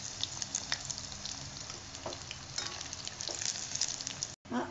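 Paneer pieces frying in hot oil for paneer chilli, a steady close sizzle with light crackle throughout, briefly cutting out near the end before resuming.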